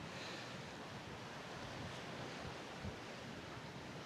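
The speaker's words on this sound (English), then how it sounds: "It's a little breezy out here on the balcony this morning." Steady wind buffets the microphone on a cruise ship balcony, with a broad rush of calm sea surf below and a faint thump near the end; no one speaks.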